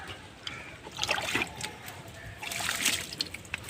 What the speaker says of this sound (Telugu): కొద్దిగా వాటర్ పోస్తాను,